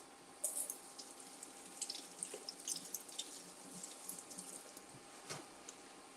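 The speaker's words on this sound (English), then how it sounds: "So let's give these a rinse." Vegetables being rinsed under a running kitchen tap, a faint steady stream with scattered splashes and drips as they are handled, heard alone without talk.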